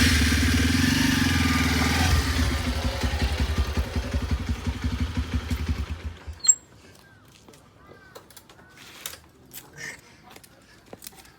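A new motorcycle's engine runs loud and steady with a rapid idling pulse, then cuts off abruptly about two-thirds through, leaving scattered faint clicks and clatter.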